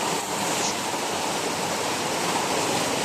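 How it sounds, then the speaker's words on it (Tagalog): Strong floodwater rushes past in a steady, loud, broadband roar that holds without pause throughout, close and unbroken. "Talagang napakalakas na ng baha"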